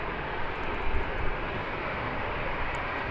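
Jet2.com airliner taxiing toward the runway at Birmingham airport, a steady broadband engine roar that holds evenly throughout at moderate distance, with no voices.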